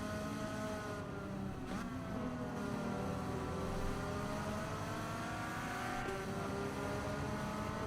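Race cars roar past in a racing video game, a steady layered engine drone with rising and falling pitch as the cars sweep by, loud and continuous with no talk.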